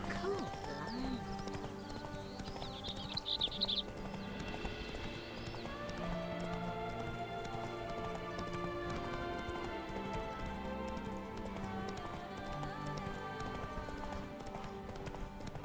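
Horse hooves clip-clop steadily in Witcher 3 as the horse Roach moves through a town area, with a brief whinny early on, all fairly quiet beneath a layered game soundscape of ambient music and background murmur.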